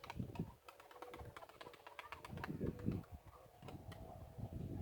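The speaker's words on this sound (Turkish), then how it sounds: "Güvercinlerimizin yeşillik keyfi arkadaşlar." Homing pigeons with their young coo softly in a loft, repeated low throaty calls at a moderate distance over faint ticking and background clatter, with no talking.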